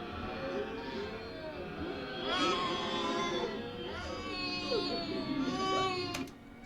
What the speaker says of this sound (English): I took a baby scream